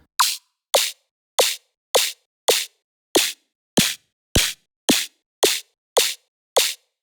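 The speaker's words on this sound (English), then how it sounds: "here I've got a snare sound, and shifting this up using a frequency shifter" Twelve sharp snare hits, frequency-shifted upward, in a steady, evenly spaced rhythm, each a bright crack with a short decay, loud and alone.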